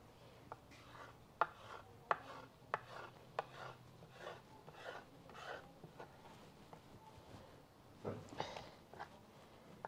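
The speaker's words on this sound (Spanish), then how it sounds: "Ya que acabé de pelar, de limpiar los chiles, ya los voy a hacer en rajitas." Peeled chiles are cut into strips on a board, a quiet, irregular run of crisp knife chops with soft rubbing between strikes.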